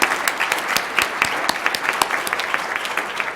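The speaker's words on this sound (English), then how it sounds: "Please, let's applaud our partners." An audience at a campus address applauds, with many hands clapping in a dense, steady patter that stays even for a few seconds.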